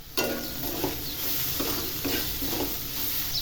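Onion, green chili, asafoetida and turmeric sauté in a pan with a steady close sizzle, while a spoon stirs and scrapes through the mixture in a few soft strokes.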